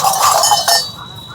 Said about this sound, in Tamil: இது ஆட்டு மணி